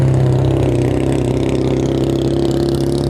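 Retro car engines rumble loudly and continuously at a car show, a deep steady idle with a rough low throb held close by and no voices over it.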